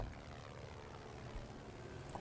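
A propeller plane passes overhead in the Project Zomboid zombie survival game, its low engine drone steady and fairly faint, with no one talking.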